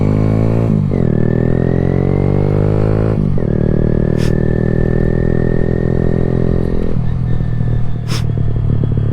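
A Kawasaki Z125 motorcycle engine runs loud and close in freezing weather, holding a steady idle-like drone that shifts pitch a few times as the revs change, with no talk over it.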